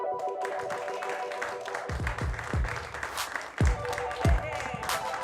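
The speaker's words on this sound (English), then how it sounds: "Ladies and gentlemen, big round of applause" An audience at a comedy show applauds as a comedian is introduced, scattered claps and cheers under a voice, with several loud thumps near the microphone.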